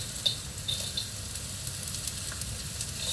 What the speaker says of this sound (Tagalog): Kaya gigisa ko muna silang tatlo